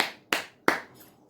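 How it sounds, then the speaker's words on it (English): Three sharp hand claps, close and dry, spaced about a third of a second apart, each decaying quickly, with no voices. "Can you clap your hands?"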